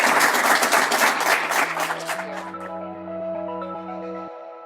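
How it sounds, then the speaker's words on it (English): A live studio audience claps and applauds for a guest during a women leaders interview, a loud burst of applause that fades out as a musical chime takes over. "if you guys can give Dianna a round of applause"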